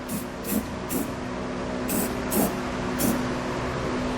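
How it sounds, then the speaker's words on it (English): Clear spray paint hisses in about six short bursts onto bare metal of a Curt trailer hitch on a 2019 Subaru Forester, close by, with a low background hum between them. "take some clear spray paint to help cover up that bare metal"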